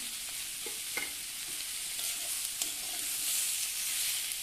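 Chopped vegetables, cucumber and chilli with stems, stirred in a pan for a vegetable dal, giving a soft, fairly quiet sizzle with a few light scraping clicks of the spoon.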